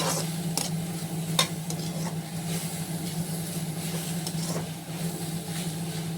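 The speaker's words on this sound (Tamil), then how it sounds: "இப்போ இதில் வந்து நம்ம சாப்பாடு செஞ்சு வச்சுருக்கிறத தட்டி அப்படியே கிளற வேண்டியது" Cooked rice stirred into a carrot mixture in a pan, a low steady sizzle with a background hum and scattered sharp clinks of a spoon against the pan.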